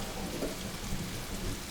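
Steady, dense rain falls close by with a low rumble of thunder beneath it, loud and unbroken through the short stretch.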